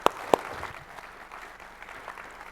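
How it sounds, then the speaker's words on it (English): Conference audience applause at an opening welcome session, a couple of sharp claps up front then a moderate, fairly thin wash of clapping that continues steadily at mid distance. "Big round of applause."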